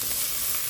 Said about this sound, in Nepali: खुर्सानी, प्याजहरुसँगै साथसाथै यो त्यतिको बेलामा यसरी भुट्यो भने चाहिँ लसुन अदुवाको पनि बास्ना एकदमै मजाले आउँछ